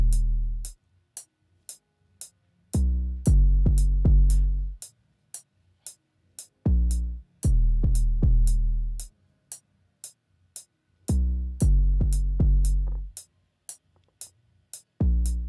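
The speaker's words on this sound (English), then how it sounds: "So this 808 is coming from the Jeff Steel Kit." 808 bass from the Jeff Steel Kit in an Afrobeats beat: deep booming notes in rhythmic bursts with short gaps, over a steady crisp hi-hat tick, loud and close, with no voices.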